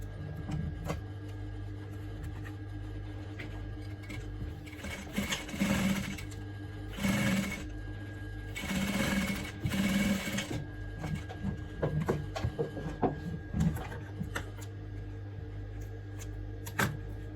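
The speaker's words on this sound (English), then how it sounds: "So now we'll start sewing from the down." A sewing machine stitches bra cup fabric in several short, close bursts of rapid mechanical whirring, broken by pauses, handling clicks and fabric rustle.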